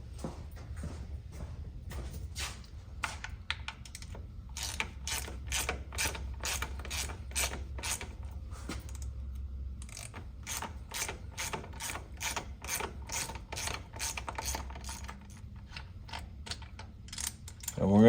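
A ratchet clicks in rapid repeated bursts, close and clear, as bolts come out of the primary on an 80's Harley Ultra Classic transmission, with short pauses between runs of clicks.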